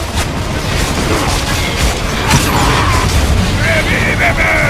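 Vulcan heavy machine gun firing in the Gears of War 3 video game, a dense, continuous stream of booming bursts and mechanical rattle layered with loud game effects for the whole stretch.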